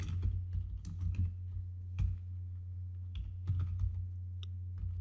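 Computer keyboard keys tapped during a Python coding session, scattered individual clicks and short bursts of typing over a steady low hum, close but fairly quiet.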